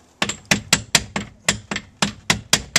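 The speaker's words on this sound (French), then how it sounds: "J'ai pris un marteau." A hammer strikes a wooden piece against a 2018 Ski-Doo snowmobile slide about a dozen times, with sharp, loud, close knocks at a brisk, fairly even rhythm and no talk.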